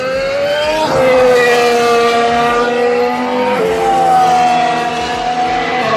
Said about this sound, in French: Maintenant, avec Verstappen, certains pilotes peuvent aller chercher jusqu'à l'AstroTurf